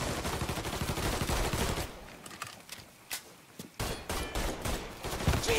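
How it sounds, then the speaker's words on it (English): Enemy gunfire in Mafia 3, loud rapid bursts at the start, then scattered sharp shots and cracks at close range. "this guy's on the floor shooting at me"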